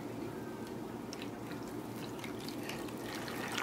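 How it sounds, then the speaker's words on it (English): Used vinegar poured over a rusty vintage chef's knife resting on a crusty pan, a steady liquid splash and trickle with faint drips, continuous and close throughout. "Now I'm going to pour some used vinegar."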